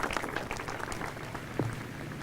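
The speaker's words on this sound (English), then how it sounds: "Expected applause." Golf gallery at a 1995 Dubai Desert Classic final round applauding a tee shot, a brief burst of scattered, moderately distant clapping with a faint voice underneath.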